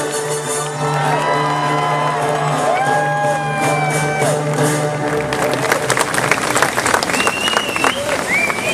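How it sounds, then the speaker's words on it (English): Audience at a Jurassic Park 25th anniversary panel at Universal breaks into sustained applause with whoops and cheers, loud and dense throughout, building toward the end. "one more round of applause for these legends"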